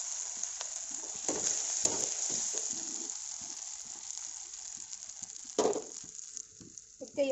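Food sizzles steadily in a hot pan while a spoon scrapes and stirs it in a few scattered strokes, close and moderately quiet, with no talking.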